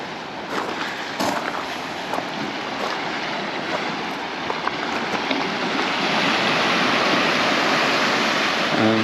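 Steady sea waves washing onto a small beach at Cala Gamba, Mallorca: a constant broadband surf rush with brief splashes, swelling slightly louder toward the end.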